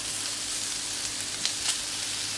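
Grilled vegetables for a Catalan escalivada sizzle steadily in a hot pan as canned roasted tomato goes in, a soft continuous frying hiss with a couple of faint brief bursts, heard alone without talk.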